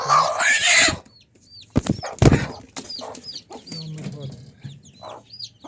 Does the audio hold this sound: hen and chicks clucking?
yes